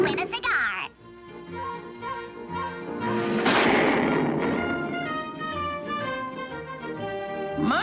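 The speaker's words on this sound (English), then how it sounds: "Turn, aim, draw, shoot." A cartoon gunshot in an old animated short, a sharp crack followed by a lingering burst of noise, heard amid lively cartoon voices and music.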